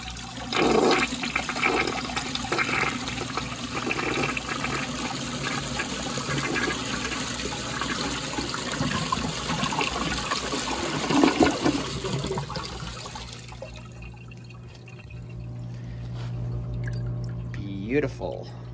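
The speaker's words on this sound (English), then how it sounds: "I want to find some sort of ball that I can flush." A 1986 American Standard Cadet toilet flushes with a bottle cap in the bowl, a loud, sustained rush of water for about thirteen seconds that drops to a quieter refill trickle, with a voice speaking over it.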